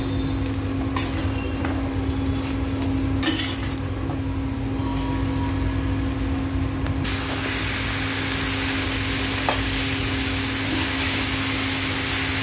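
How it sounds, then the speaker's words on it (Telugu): Pieces of ridge gourd sizzle and hiss steadily in hot oil in a frying pan, a loud continuous fry that grows brighter partway through, with no talking. "ఇప్పుడు బీరకాయ కట్ చేసుకున్న బీరకాయ ముక్కలు వేయాలి ఇందులో"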